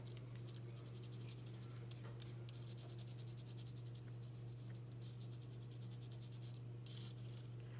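A fingertip rubs gold onto an embossed paper envelope, making soft, quick, repeated scratchy strokes close up over a faint steady hum.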